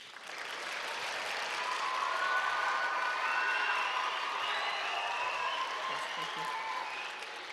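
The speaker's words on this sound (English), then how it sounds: "You may clap." Middle school audience clapping at a Christmas choir concert, a broad wash of applause that swells in and stays steady for several seconds before easing off slightly at the end, with faint cheering mixed in.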